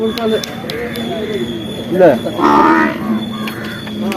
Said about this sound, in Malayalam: ഇത് എരുമല്ലേ